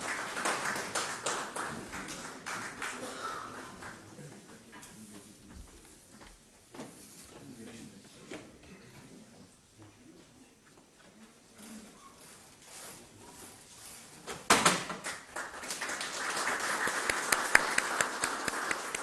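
An audience applauds to welcome Pakistani Prime Minister Shehbaz Sharif at a housing inauguration for flood victims, scattered clapping that swells into fuller, louder applause toward the end, mixed with background voices and room noise.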